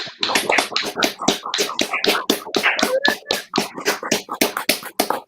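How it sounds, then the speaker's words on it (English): Applause at a film competition awards night for a runner-up, a close, sparse patter of a modest audience clapping in quick irregular claps, with no voices over it. "Round of applause."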